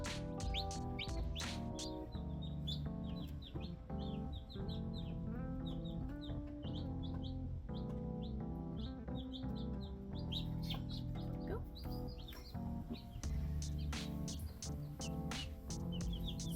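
Newly hatched chicks peep constantly, a dense chorus of high, rapid chirps from a group of small birds nearby, with occasional louder cheeps and no voices.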